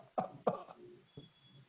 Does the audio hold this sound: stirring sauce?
no